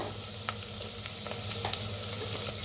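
Masala paste with turmeric and red chili powder frying in a clay pot for stuffed brinjal, a steady close sizzle with a few light clicks and scrapes of stirring.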